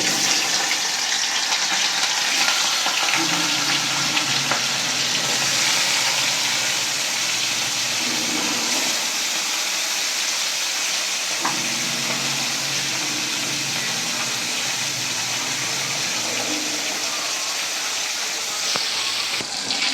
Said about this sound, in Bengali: তেল গরম হয়ে গেছে, এবার একে একে বাটা মাছগুলো ভেজে নেব।